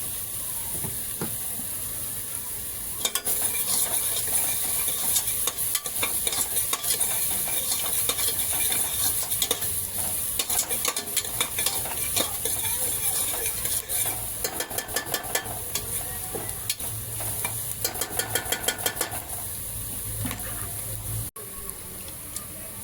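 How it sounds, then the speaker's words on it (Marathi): Onion fries with salt in a pan for sambar, giving a steady close sizzle and hiss throughout, with scattered scraping and stirring clatter over the top; no talking. "यात आपण आता थोडं मीठ टाकूया यामुळे कांदा लवकर फ्राय होईल"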